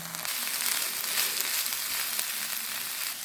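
Egg chicken hakka noodles with sauce stir-frying in a hot pan, a dense, even hiss of sizzling oil filling the whole stretch with no voices.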